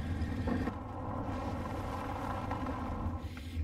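A boat engine runs steadily in the video game As Dusk Falls, a continuous low rumble mixed with wind and water wash, holding at an even, fairly loud level throughout.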